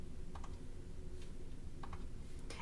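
Light, quick keystrokes tap on a computer keyboard in short clustered bursts as a name is typed into a Cricut design program, faint and close over a soft background hum, with no one speaking.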